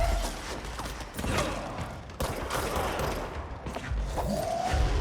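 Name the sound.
gunfire from shooting enemies in the video game Control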